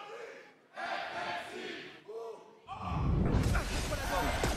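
An esports crowd at a Valorant VCT EMEA match erupts into loud shouting and cheering that builds and swells toward the end, with brief gasps and calls before it.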